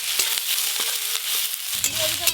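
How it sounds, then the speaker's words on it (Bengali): Five-spice seeds crackle and sizzle in hot oil for a banana-flower chop filling, a steady bright hiss throughout that grows fuller with a louder burst near the end. "মোচার চাপে পুরের জন্য এই যে ফোড়নে 5 ফোড়ন দেব"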